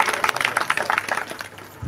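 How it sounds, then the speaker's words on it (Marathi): Crowd clapping at a Marathi devotional gathering, a dense, close burst of applause that carries on for about two seconds and fades slightly toward the end, with no speech. "टाळी वाजवा."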